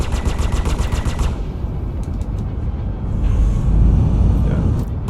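Rapid gunfire striking a spaceship in the Star Citizen video game, a dense rattling burst of impacts over a loud, rumbling engine drone that swells and then continues alone.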